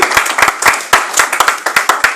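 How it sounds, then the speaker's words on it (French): A church congregation clapping, with sharp close hand claps in a loose irregular rhythm that is lively and loud throughout. "Et je demande à l'assemblée d'acclamer très fort pour la gloire de Dieu."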